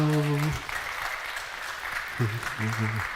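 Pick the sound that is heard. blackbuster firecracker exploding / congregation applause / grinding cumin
congregation applause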